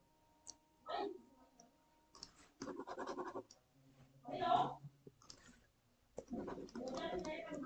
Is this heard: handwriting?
yes